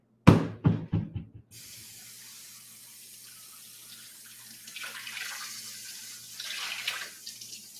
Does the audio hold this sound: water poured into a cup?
yes